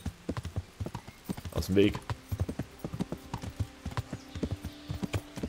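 Horse hooves clip-clopping steadily on a street in the medieval video game Kingdom Come: Deliverance, a quick regular rhythm close by, with a brief whinny and a voice speaking over it.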